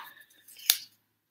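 A single sharp snip of scissors handled at a craft table while paper is being cut, one crisp close cut after faint rustling, then quiet.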